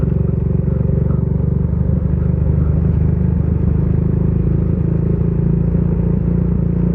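A motorcycle riding along a muddy road, its engine giving a steady, close, loud rumble with light clatter throughout, no voices.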